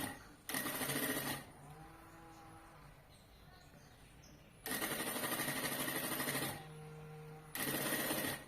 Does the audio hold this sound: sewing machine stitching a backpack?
yes